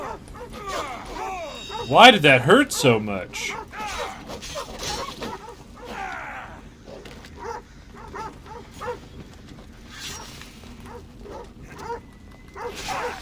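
Dog barks and whimpers from a video game set in ancient Greece, loud and clustered in one sharp burst early on, with voices and game sounds around it.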